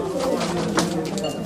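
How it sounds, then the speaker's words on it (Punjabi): A pure Rajan-line racing pigeon from pigeon-flying circles coos in low, soft, steady murmurs, close by and continuous for a moment amid light background noise. "ਆ ਜੀ ਪਿਓਰ ਰਾਜਨ ਵਾਲਾ ਕਬੂਤਰ ਹੈ ਜੀ"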